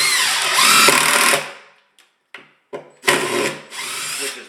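Power drill driving screws into a plywood subfloor, two loud close whirring bursts separated by short quiet gaps with brief clicks and ticks, no talking.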